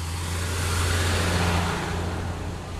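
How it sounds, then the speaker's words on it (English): A 10-ton finishing roller compacts a recycled asphalt road mat, its diesel engine a steady, heavy, loud drone with a low rumble throughout and no speech. "a 10-ton finished roller that follows up behind the pneumatic"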